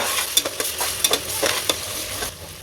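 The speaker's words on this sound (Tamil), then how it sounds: "இப்போ இஞ்சி பூண்டு பேஸ்ட்லேயும் பச்சை வாசனை போகிற அளவுக்கு நல்லா வதக்கி விட்டுக்கலாம்." Ginger garlic paste sizzling and frying in a pan with scraping stirring strokes at an irregular rhythm, close up, no talking.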